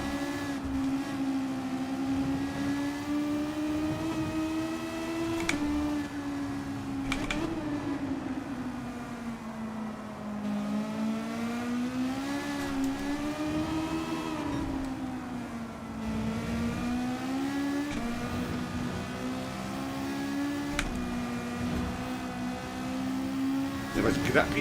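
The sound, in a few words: race car engines in video game Gran Turismo 7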